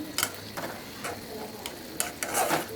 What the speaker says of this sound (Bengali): এখন মাছটা দিয়ে সামান্য আর একটু রান্না করে তারপরে নামিয়ে নেব